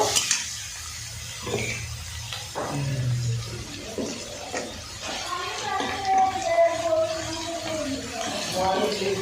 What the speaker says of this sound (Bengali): কড়াইয়ে তেল দিয়ে পেঁয়াজ, বিনস আর ক্যাপসিকামটা দিয়ে দিলাম